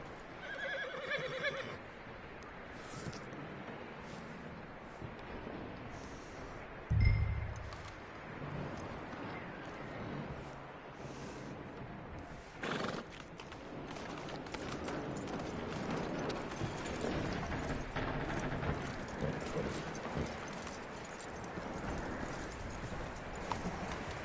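Horse in Red Dead Redemption, steady clip-clop of hooves running throughout with a sharp whinny early on, set against an ambient outdoor game soundscape.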